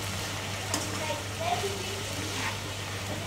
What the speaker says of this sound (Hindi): सब्जी हमारी अच्छे से फ्राई हो चुकी है